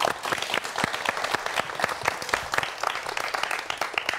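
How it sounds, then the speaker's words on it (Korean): An audience claps steadily to welcome a speaker at a science lecture on new materials, with individual hand claps standing out within the close, continuous applause. "박수 부탁드립니다."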